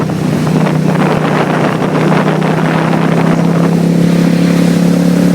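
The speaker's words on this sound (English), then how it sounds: "it's a nice little motorcycle" A 2002 Suzuki VS800 Intruder cruiser motorcycle riding along through turns, its steady engine drone loud and continuous under heavy wind buffeting, with no talk.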